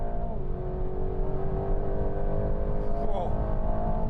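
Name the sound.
Aston Martin Vantage accelerating in launch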